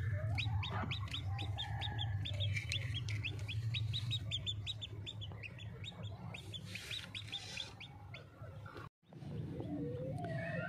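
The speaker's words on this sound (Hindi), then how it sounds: "ये देखिए जी हमारी मुर्गियाँ" Hens on a small farm cluck and chirp steadily through the clip, with repeated short high calls over a low hum, fairly faint and continuous with a brief dropout near the end.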